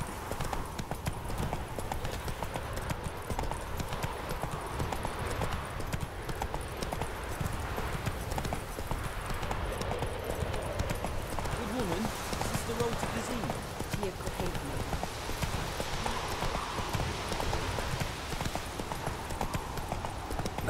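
Horse hooves clip-clopping at a steady pace in Witcher 3 gameplay, a continuous rhythmic drumming that persists through the whole stretch with game ambience and talking over it.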